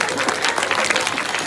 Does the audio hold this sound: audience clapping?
yes